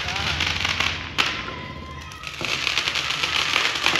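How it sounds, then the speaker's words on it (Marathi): Firecrackers crackle and pop in a long continuous rattling burst, with a sharp bang near the start and distant voices underneath. "अरे ह्यांनी कुठून फटाके आणले की एवढा वेळ चालतं ते?"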